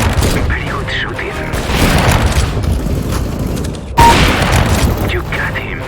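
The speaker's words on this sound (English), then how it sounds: "Very good shooting." Gunfire in a Counter-Strike: Global Offensive team deathmatch on the Inferno map, dense, continuous shots and booming bursts with a sharp crack near four seconds, under a voice talking throughout.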